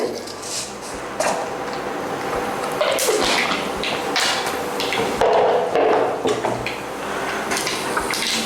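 Mustard seeds spatter and crackle in hot oil while making mussel fry, a dense, uneven sizzle with occasional clinks from a pan nearby.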